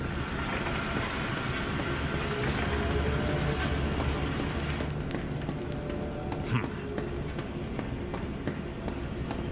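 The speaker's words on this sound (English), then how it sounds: "Now activate the lever to lower the gadget trolley. Now drag the trolley to the gates." A gadget trolley rolls along rails in the video game Zoochosis, giving a steady close rumbling train-like clatter with a few sharper clicks, no speech over it.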